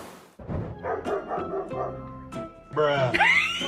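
A dog makes a string of short, close vocal yips and barks, some whining and pitched upward, with the loudest sharp call near the end.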